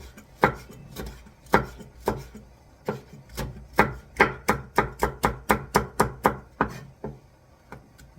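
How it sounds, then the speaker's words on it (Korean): A single cheongyang chili pepper finely sliced with a knife on a cutting board: a quick run of sharp, close chopping taps, sparse at first then speeding into an even rhythm, with no talk. "국물이 칼칼하라고 청양고추 1개만 쫑쫑 썰어서 넣을 거예요."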